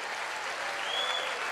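Crowd at a motivational speech in Las Vegas applauds itself, a brief, even burst of dense clapping with a faint whistle rising through it.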